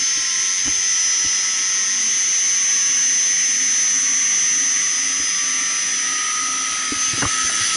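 A Multistack HVAC chiller compressor starts up and runs with a loud, steady whine and hiss, a few faint knocks near the end and no talk.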